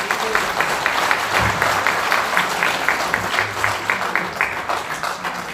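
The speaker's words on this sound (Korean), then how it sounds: "박수로 한번 모시겠습니다" An audience at a Korean press conference applauds to welcome a university education professor to the microphone, loud sustained clapping with a steady rhythmic pulse running through it.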